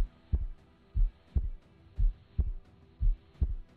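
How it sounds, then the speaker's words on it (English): A steady thumping heartbeat from a Minecraft modpack game, paired low beats repeating about every half second under a faint hum, with no voices. "So you can hear my heartbeat, but I'm not low on health."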